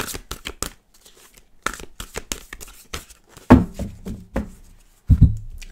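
Several tarot card decks being shuffled by hand, with quick riffling flutters and crisp card slaps alternating with short pauses, ending in a few soft thumps as the cards are squared on a surface.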